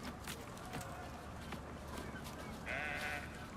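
A goat bleats faintly in an extraction shooter video game, heard over a dense, steady game soundscape with footsteps and ambient noise.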